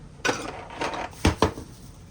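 A glass canning jar is picked up and set down in a kitchen while French onion soup is being canned, giving a few sharp, close clinks and knocks spaced irregularly, with quiet handling between them.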